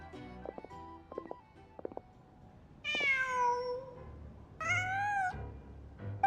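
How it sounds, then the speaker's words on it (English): A cat in the video game Genshin Impact gives two clear, drawn-out meows with falling pitch, preceded by soft clicking game sounds and set against a quiet background. "Huh. Just a cat."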